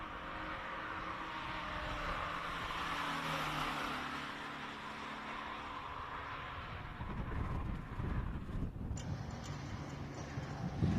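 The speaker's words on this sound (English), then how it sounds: "Johann Zulch up in the E30 BMW just started off the start line" A BMW E30 race car at a classic car speed event pulls away from the start line, its engine a steady broad roar that swells and grows rougher toward the end, with no talk over it.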